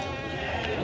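A lamb at the Boysun livestock market bleats once, a short wavering cry heard close, with crowd noise behind.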